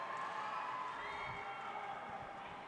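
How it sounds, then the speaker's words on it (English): A crowd at the World Wushu Championships in Brazil's Rafael Viana dos Santos's nangun event cheers, a faint, distant roar of shouts and whoops that holds steady throughout. "Crowd cheering their athlete."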